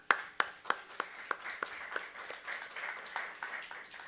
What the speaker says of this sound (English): Please, a big clap for Anthony.